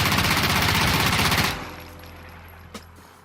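A burst of rapid MP7 fire from a recoil test in the video game Insurgency Sandstorm, a dense automatic volley lasting about a second and a half before cutting off into a faint tail, with one small click after.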